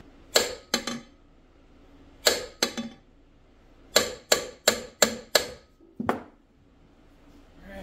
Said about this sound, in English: Get a hammer, give it a couple whacks.